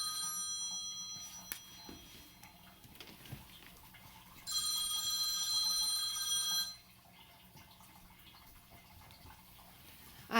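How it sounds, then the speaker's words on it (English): A phone rings from across a quiet room, with a steady electronic tone that holds for about two seconds and then cuts off, faint and distant against low background hiss. "And there's my phone."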